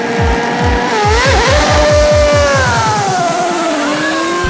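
Formula One race car passing at speed: a loud, high engine whine with rapid upshifts, the pitch climbing and falling across several gear changes, alone with no voices.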